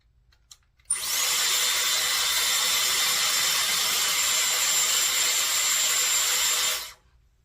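A Dyson Airwrap hair styler with a roll brush blows air for about six seconds: a sudden, loud, steady whooshing whine that runs unbroken, then cuts off sharply, heard alone.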